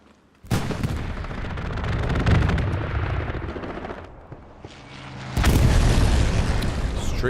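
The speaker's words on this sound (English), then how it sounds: "Strafing run." Aircraft strafing run in the Hell Let Loose video game at Omaha Beach, loud booming bursts of gunfire and impacts that swell, dip briefly, then return in a heavier roaring burst.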